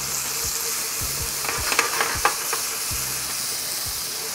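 Garlic and green onions fry in a pan over medium to medium-low heat, a steady broad sizzle with a few brief scraping clicks near the middle, close and alone without talk.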